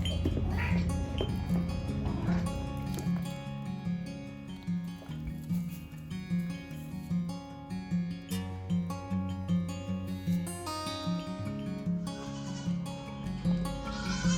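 Nubian goats bleat while they eat grain during morning feeding, giving repeated loud, close calls from several animals that overlap over a steady rustle and low background hum, with a voice heard briefly.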